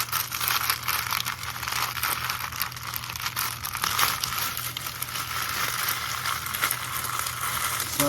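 Plastic wrapping is peeled off a massive toroidal transformer, giving a steady, close crackle and crinkle over a low, constant background hum.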